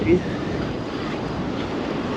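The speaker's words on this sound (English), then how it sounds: "Lovely bit of a surf here on an southeasterly wind." Sea surf breaking on a North Wales shore under a southeasterly wind, a continuous broadband wash with heavy wind noise buffeting the microphone in rain.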